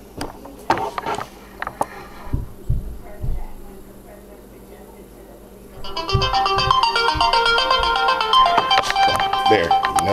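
A mobile phone rings with an incoming call before a microwave shielding test, the loud melodic ringtone starting partway through and continuing steadily, after some handling clicks and a brief spoken word.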